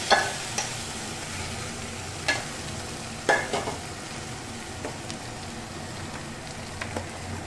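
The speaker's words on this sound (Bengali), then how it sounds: "আমি যে কড়াইতে চিকেন রান্না করেছিলাম সেই কড়াইয়ের মধ্যে এই সেদ্ধ ডালটাকে ভালোভাবে দিয়ে দেব।" Boiled lentils stirred into a hot kadai still coated from cooking chicken, giving a steady soft sizzle with scraping spoon strokes and a few sharper clanks against the pan, no talking.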